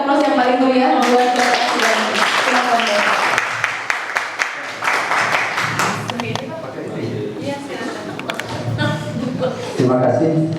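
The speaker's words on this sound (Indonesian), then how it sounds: "kita aplaus yang paling meriah" An audience claps and cheers in a sustained wash of applause that rises and fades, while someone speaks over it in Indonesian.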